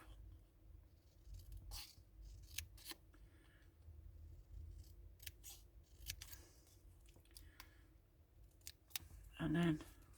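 Scissors cut paper craft pieces in half, a series of quiet, crisp snips spaced irregularly and heard close up against a low room hum.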